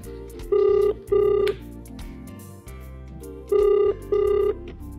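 A telephone rings loudly during a call in two pairs of double rings, separated by a pause, with music playing underneath.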